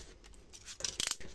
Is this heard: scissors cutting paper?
yes